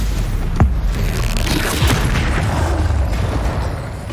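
Stupefy spell cast in Hogwarts Legacy, a deep booming magical blast with crackling bursts over dense game effects, loud and close.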